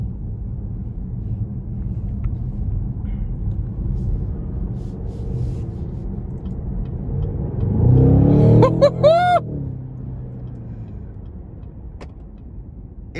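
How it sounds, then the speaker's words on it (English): A 2020 Cadillac CT6-V luxury sedan accelerates hard on a test drive, its engine note swelling from a steady cabin drone into a loud, rising surge before easing back, with no talking. "As soon as I give it gas, it throws me back in the seat."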